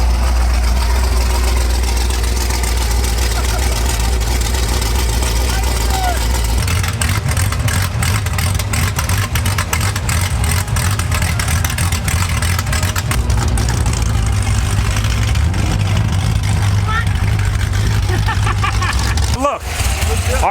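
A diesel car's engine runs loud with its exhaust valves open, a deep steady rumble that shifts to a rougher, louder drone partway through, with people talking over it.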